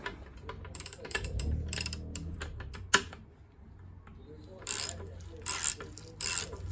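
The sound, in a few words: ratchet with 19mm socket on stroller front wheel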